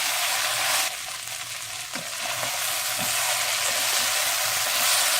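Okra cooked uncovered in an open pan, with onions, sizzles and hisses steadily in hot oil, close and loud, with occasional soft scraping from stirring.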